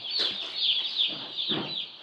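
Newly arrived baby chicks peep in a brooder, a dense, shrill chorus of overlapping high chirps heard close and continuous.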